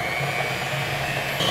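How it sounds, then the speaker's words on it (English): An electric mixer blends dry ingredients into acorn and blueberry muffin batter, giving a steady whirring motor whine at close range that rises slightly near the end. "And then we'll blend that in with the mixer."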